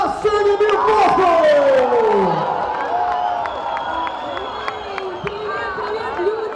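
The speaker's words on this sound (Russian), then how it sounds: "Встретьте ее бурными аплодисментами" A club crowd at Milk Moscow cheers and claps for singer Dina Migdal as she takes the stage, a loud rolling wall of whoops and applause with a shouting voice over it, easing slightly but continuing throughout.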